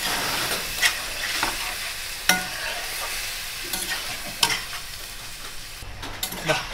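Mutton frying in a pot with fat for Gobindobhog rice biryani, a steady sizzle broken by several sharp scrapes of a spatula stirring against the pot, no voices.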